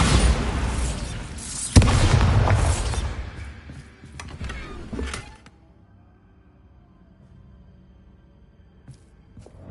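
Bombarda spell detonating in Hogwarts Legacy, a loud booming blast with a sharp burst near the start, then a rumbling debris tail that fades into quiet by the middle of the clip.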